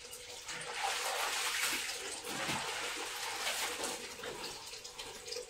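Clothes hand-washed in water at home, heard as continuous close sloshing and splashing that swells and eases as the cloth is worked.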